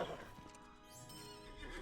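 A taxi horse in the Lord of the Rings Online video game whinnies and clip-clops along, a quiet, soft in-game sound with a faint neigh over steady hoofbeats.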